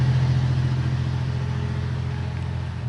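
A truck engine runs steadily during a test, a loud, close, even rumble with no change in speed and no voices over it.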